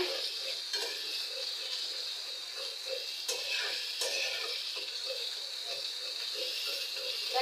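Mashed food stir-fried in mustard oil in a pan, a steady close sizzle with repeated scraping and stirring strokes throughout, no talking.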